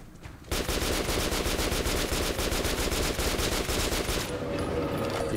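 Sustained automatic gunfire at a creature in Metro: Last Light, a loud, rapid, unbroken stream of shots starting after a brief quiet moment and cutting off near the end.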